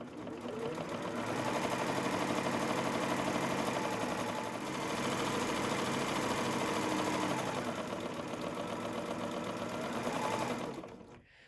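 A serger sewing a rolled edge on batik rayon fabric, a fast steady close mechanical whir running continuously for about ten seconds, dipping briefly midway, then stopping.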